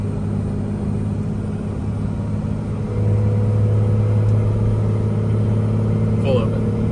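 A truck's exhaust hums with a steady low droning rumble, muted and even, with a slight rise in tone partway through, through an adjustable muffler set fully closed at about 2200 RPM.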